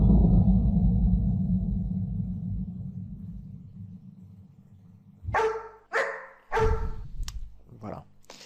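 A recorded dog bark played back from an audio file, heard as several loud, close barks after a long low rumbling opening, with the playback sounding stretched and slowed.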